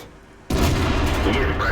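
A tank gun firing in an SU-100 tank video game: a sudden loud boom hits after half a second of quiet rumble, and a dense, sustained roar of battle noise follows.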